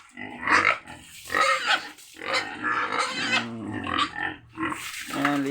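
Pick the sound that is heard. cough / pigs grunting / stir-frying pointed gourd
pigs grunting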